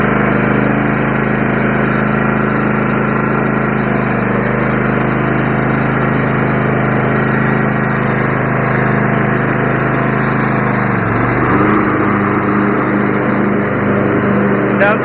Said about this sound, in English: Sounds like the blades work.